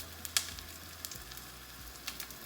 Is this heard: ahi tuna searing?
yes